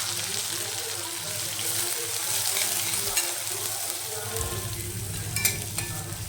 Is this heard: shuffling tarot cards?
no